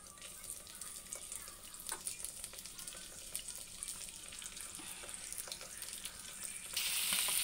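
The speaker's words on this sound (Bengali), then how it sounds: "কড়াইটা বসিয়ে দিয়েছি গরম হয়ে গেছে এবার আমি মাছগুলো ভালো করে ভেজে নেব" Fish frying in hot oil in a wok gives a soft, steady sizzle with faint crackles and small clatters, rising into a brighter hiss near the end, no speech.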